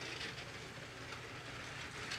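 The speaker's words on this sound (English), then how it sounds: "We've got the heavy haul train in the inner loop," A LEGO heavy haul train runs on its track loop, giving a steady, close, continuous whirring rumble with no pauses.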